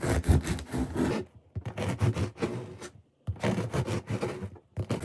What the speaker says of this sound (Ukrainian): Нарізаю хліб для хрінок